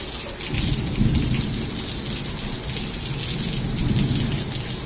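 Steady heavy rain hisses and patters on surfaces while low thunder rumbles underneath, swelling at moments. No voices.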